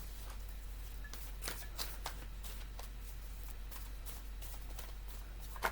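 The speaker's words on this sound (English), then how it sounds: "So we'll just get a few cards here." Tarot cards are shuffled by hand in soft, repeated riffling bursts over a faint low hum, quiet and close with no talking.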